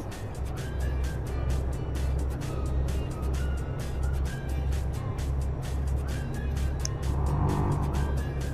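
Simulated truck engine in Euro Truck Simulator 2, a steady low droning rumble that runs continuously and fairly loud throughout, with no talking.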